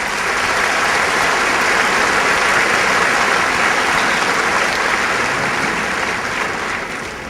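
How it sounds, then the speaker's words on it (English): Sustained, loud applause from a large crowd at a 2006 high school graduation ceremony, steady and unbroken for several seconds before easing slightly at the end. "let us give you a round of applause"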